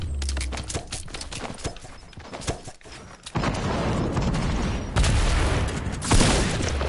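Rapid shooting in a video game, a series of sharp close shots in quick succession, followed by denser sustained bursts of fire with rumbling booms in the background.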